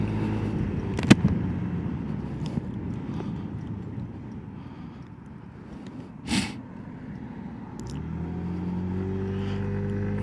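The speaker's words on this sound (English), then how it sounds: "very pleased with the way it pulls away. Nice and smooth, but also pretty rapid" A 2022 Peugeot Tweet 125 scooter idles with a low, uneven mutter, then near the end its engine note rises smoothly as it pulls away.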